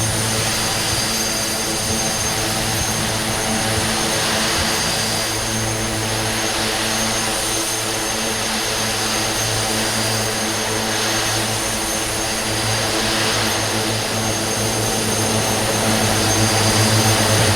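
A Twin Otter turboprop aircraft in Flight Simulator 2020 drones steadily through its takeoff, a constant loud propeller and engine roar with a slight swell toward the end.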